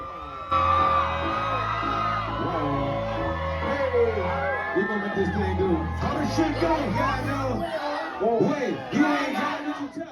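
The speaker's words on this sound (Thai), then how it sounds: "สาวแก่แม่ไม้น้อยใหญ่พากัน โห่ร้องตะโกนด้วยความบ้าคลั่งนะฮะ" Concert crowd of fans at a show screaming, whooping and yelling in a loud sustained roar over music with a heavy bass beat, continuing throughout.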